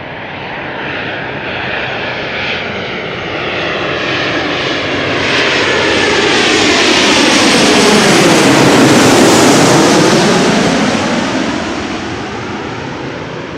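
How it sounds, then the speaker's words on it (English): A KLM Embraer 190 jet arriving at Amsterdam Schiphol from Glasgow roars loudly overhead, its engine noise swelling as it passes close by, then slowly easing off with no talk. "Next up is going to be a KLM Embraer 190 arriving from Glasgow."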